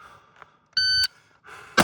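A shot timer gives a single sharp electronic beep at a rifle shooting range, loud and clear for about a third of a second, followed by brief noise near the end.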